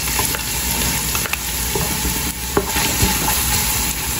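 Red onion dropped into hot olive oil with garlic, sizzling and frying steadily while being stirred, with occasional utensil scrapes against the pan.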